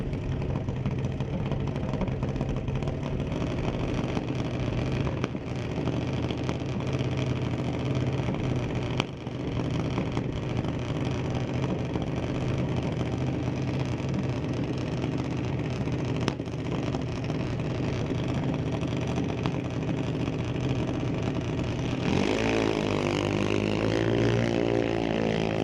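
A 2020 Huddleston junior dragster chassis runs down the strip at Mission Raceway Park, its small engine droning steadily and loudly throughout, with a rising whine near the end as the car pulls away.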